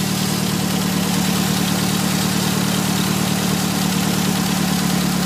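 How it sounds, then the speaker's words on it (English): A car engine fitted with SU HS6 carburettors idles steadily at 1000 RPM with a constant low hum and rumble, close by and loud, with no voices. "the engine is running at 1000 RPM there"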